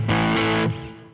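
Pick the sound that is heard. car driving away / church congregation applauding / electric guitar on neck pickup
electric guitar on neck pickup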